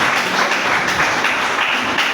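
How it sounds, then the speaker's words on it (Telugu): A church congregation clapping loudly together, a steady dense wash of many hands at close range with no pauses. "చప్పట్లు కొట్టండి గట్టిగా"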